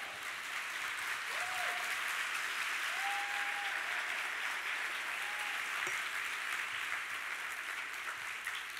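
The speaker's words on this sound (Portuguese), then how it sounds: "Dê um forte aplauso ao Senhor" Church congregation applauding the Lord, a steady wash of clapping that lasts throughout at moderate volume, with a few brief voices rising over it.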